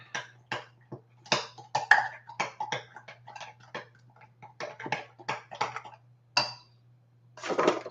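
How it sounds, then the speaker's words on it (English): Ingredients mixed in a bowl, a rapid series of clinking, tapping utensil strikes against the bowl, close and fairly sharp, in irregular bursts with brief pauses, no talk. "We're going to mix this up."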